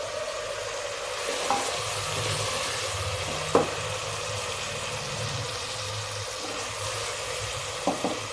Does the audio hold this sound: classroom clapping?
no